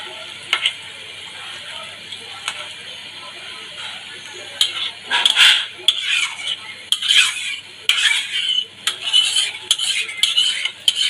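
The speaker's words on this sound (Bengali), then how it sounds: "জল দিয়ে একটা হালকা নাড়াচাড়া করে নিচ্ছি" A utensil stirs fish curry with added water in a wok-like kadai: quiet at first, then irregular scraping and clinking against the metal pan, close and moderately loud, with no talking.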